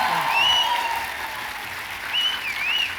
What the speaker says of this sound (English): Can we start with a big, robust round of applause